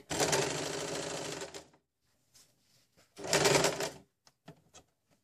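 A sewing machine stitches a square blouse neckline in two loud, close bursts of rapid rattling, with quiet handling clicks and taps between and after the runs.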